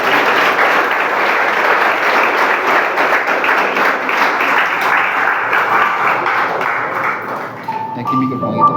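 A church congregation claps loudly and continuously through a worship service, a dense steady applause that fades slightly near the end as a faint tone enters.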